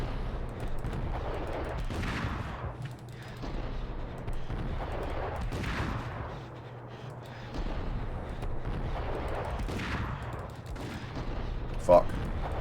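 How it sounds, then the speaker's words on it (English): Shotgun blasts from a video game shooter boom repeatedly in a dense, rolling stream of gunfire across the stretch, with heavy low rumble throughout and a sharp crack near the end. "switch to the good shotgun"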